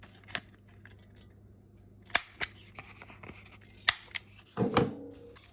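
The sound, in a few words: cutting rounded corners on paper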